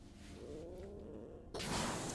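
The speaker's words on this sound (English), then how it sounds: "Is that like a box cat?" A cat-like creature in a scene from Ahsoka episode 1 gives a soft, purring, moaning call, then a sudden burst of loud broadband noise takes over.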